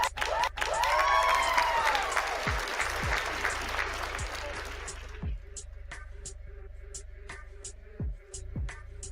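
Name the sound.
applause sound effect played for a tip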